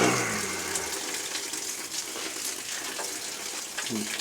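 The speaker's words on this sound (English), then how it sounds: "Somebody's running more water." Water rushing down a copper drain stack pipe, a continuous loud hiss and splash that stays close and steady throughout.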